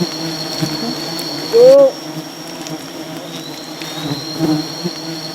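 A swarm of wild honey bees pours out of their nest in Sumbawa, a constant faint buzzing hum with individual insects droning past the microphone, and one short louder whine near the start.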